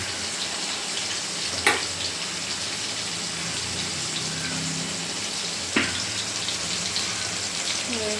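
Brinjal (eggplant) fries in oil with a steady, even sizzle at moderate level, broken by two brief utensil clinks.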